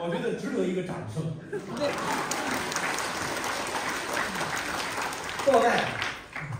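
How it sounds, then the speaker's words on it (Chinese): An audience claps at an evening xiangsheng crosstalk show by Deyunshe in Harbin, with several seconds of sustained applause between stretches of performers' talk. "我觉得值得一个掌声。"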